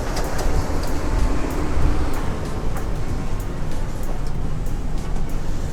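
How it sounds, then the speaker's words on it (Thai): Steady broadband rumble and rail noise inside a Bangkok MRT underground subway train car in motion, loud and continuous with faint squeals above, no talk. "อันนี้ก็จะเป็นภายใน รถไฟนะครับ"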